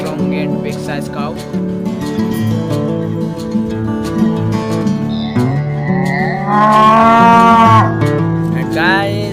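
A loud, drawn-out cow moo, sounded by a toy cow from a farm animal set, rises clearly around the middle and end over steady background music.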